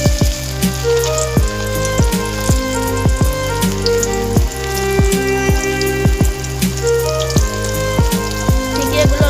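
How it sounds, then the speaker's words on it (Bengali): Beef tikiya patties frying in oil in a hot wok, village style, with a loud, steady close sizzle and crackle and repeated pops and spatters throughout. "টিকিয়াগুলো আমি একে একে ছেড়ে দিয়ে লাল লাল করে ভেজে নেব।"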